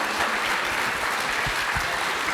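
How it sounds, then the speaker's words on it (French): An audience applauds steadily at a church gathering, a dense, even burst of clapping that fills the moment without any talking over it. "Oui, on applaudit."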